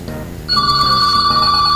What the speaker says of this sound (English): occupied with the phone ringing